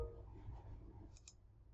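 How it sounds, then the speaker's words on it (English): Two quick, faint clicks of a computer mouse double-clicking a file to start a software installation, close by in a quiet room with low background hum. "So if you double click on this one right here,"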